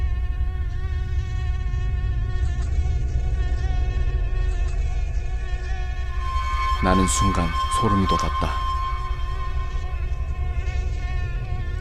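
A thin, steady mosquito whine drones close to the ear for the whole stretch, holding one high pitch beneath a narrator's voice, with a brief burst of other sound near the end.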